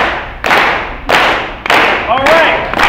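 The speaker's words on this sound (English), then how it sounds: "Let's see if you can get in sync on your own." An audience tries to clap in unison, landing four loud, sharp collective claps at about half-second-plus intervals, each ringing briefly before the next, close and without talk.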